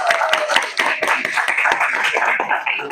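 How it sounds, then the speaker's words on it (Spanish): An audience applauds as a debate team is called to the stage for second place at an inter-institutional debate tournament final, with loud, dense, close clapping that holds steady for the whole stretch. "Un aplauso, por favor."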